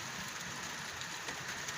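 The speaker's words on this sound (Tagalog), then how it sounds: "Mahina pa yung ulan na yan." Light rain falls steadily in Riyadh, a faint, even patter and hiss with no voices.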